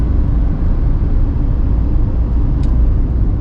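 A 2024 GMC Sierra 2500 Denali Ultimate heavy-duty 4x4 diesel pickup cruising downhill while trailering, heard from inside as a steady, loud low rumble of road and engine noise with no talking.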